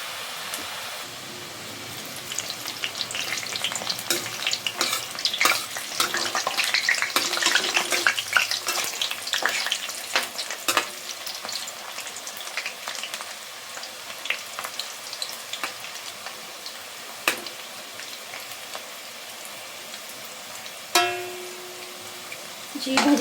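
Loosened onion bhaji batter drops into hot oil for crispy kanda bhaji, bubbling and sizzling in a steady crackle with sharp spatters that thin out and fade; a brief voice cuts in near the end.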